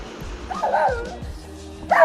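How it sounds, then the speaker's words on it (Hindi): A dog barks downstairs, giving two or three sharp yipping barks with whimpering tones, fairly close and loud, separated by short pauses. "और नीचे कोई कुत्ता रखा, उसके लिए भौंक रहा है।"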